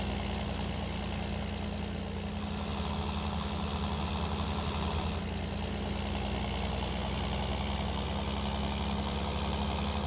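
A John Deere tractor engine in Farming Simulator 19 lugs a heavy tanker, producing a steady, loud low drone that holds unbroken throughout with a constant rumbling throb and no voices.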